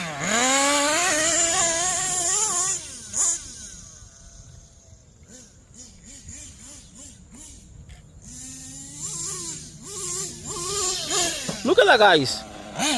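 Kyosho USA-1 Nitro RC truck's small nitro engine screams and revs in rising, wavering bursts near the start and again at the end, quieter buzzing between, with someone talking over it.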